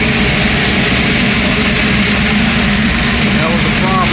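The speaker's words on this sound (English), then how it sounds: "That was the pump right there." A pump runs on a car with an LS engine, making a steady, unbroken mechanical hum with a low rumble underneath. It holds close and loud throughout, with faint voices murmuring in the background.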